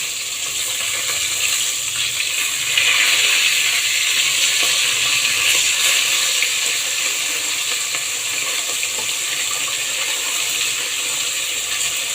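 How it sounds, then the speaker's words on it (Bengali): Fish fry in hot oil in a pan with a loud, dense, continuous sizzle that holds steady throughout. "মাছগুলি এক পাশ লাল লাল হয়ে গেছে, এখন উল্টায় দিব।"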